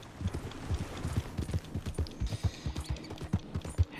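Horse hooves clip-clop at a steady walking rhythm in Red Dead Redemption 2, loud and close, with a faint background hum and a brief louder knock at the end.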